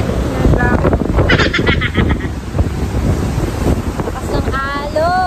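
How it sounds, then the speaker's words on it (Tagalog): Strong surf breaking on a beach in Ilocos, a loud, continuous rush of wind-blown waves close to the microphone, with bird calls and brief voices in the background. "Tsaka ang lakas ng alon."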